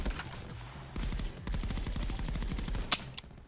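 Rapid automatic gunfire in the Call of Duty VR video game, sustained bursts of close shots followed by a couple of sharp metallic clicks, with no talk.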